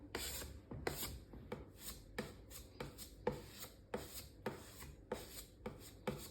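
Wood putty being spread and scraped over a furniture surface during a repair, a steady series of rasping strokes roughly every half second, close and quiet, with no voices.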